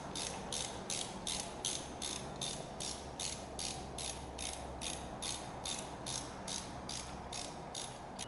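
A ratchet clicks in a fast, even rhythm while ARP head studs are tightened on an RB26 engine, the ticking mechanism close and fairly quiet over a low background hum.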